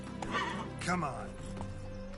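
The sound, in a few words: horse Roach neighing in video game The Witcher 3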